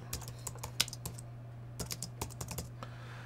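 Typing on a computer keyboard in a quiet room, a sparse run of light, close key clicks with irregular pauses over a steady low electrical hum.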